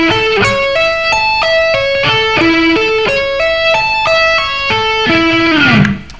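Electric guitar playing a slow arpeggio over the first three strings, picked going up and hammered on coming down: distinct bright notes stepping up and down in a steady rhythm, close and loud, ending in a sliding note, with no talk.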